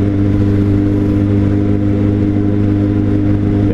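A Suzuki GSX750F motorcycle engine runs loud and close, a steady throbbing roar with deep harmonic rumble held throughout.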